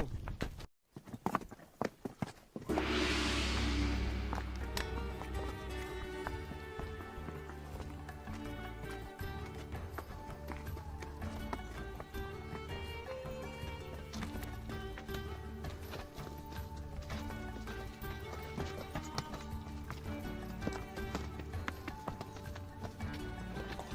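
Donkey hooves clip-clopping on a steep mountain path at Petra in Jordan, a steady run of close, sharp taps under background music.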